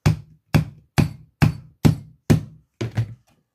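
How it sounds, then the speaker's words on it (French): Seven evenly spaced hammer taps drive a wooden wedge into the corner of a canvas stretcher frame, each a sharp, close, dull knock with a quick decay and silence between. "Alors normalement, je donne un coup avec le marteau."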